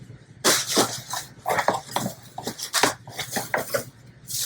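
Two plastic travel mugs with lids are picked up and handled, giving a run of light clattering knocks and scrapes at close range with no talking.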